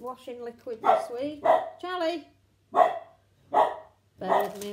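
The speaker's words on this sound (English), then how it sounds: "Excuse my dog barking." A pet dog barks several times indoors, sharp barks spaced about a second apart, mixed in with someone talking over them.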